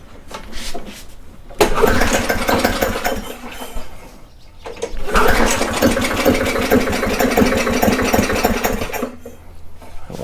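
A Briggs and Stratton flat head engine, with fuel fed through the carburetor and a suspected intake valve problem, cranks and catches in two loud, close bursts of rough running separated by a brief pause.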